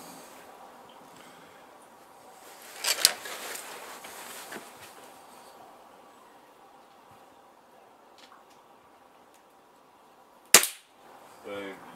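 Gamo Whisper air rifle firing with a scope, two sharp cracks several seconds apart, the second followed by a ringing metallic hit on a rat-shaped target, quiet outdoor background between.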